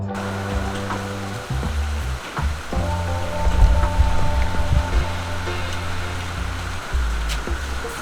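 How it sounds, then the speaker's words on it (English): Steady rain falls outside after dark, a continuous close wash of patter and drips with a low hum running beneath it, no voices present. "It is raining right now"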